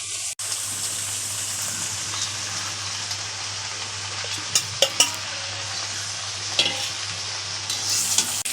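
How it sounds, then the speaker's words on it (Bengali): Potatoes with red amaranth greens stirred in a sizzling pan, a continuous close frying hiss with scraping spoon strokes and a few louder clatters against the pan. "এবার নাড়াচাড়া করে নিব"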